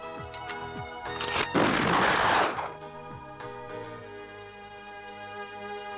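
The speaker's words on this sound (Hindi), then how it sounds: "बंद करिए फायरिंग" Gunfire in a Pakistani drama scene, a loud burst of noisy blasts over a couple of seconds amid music, standing out from quieter surroundings.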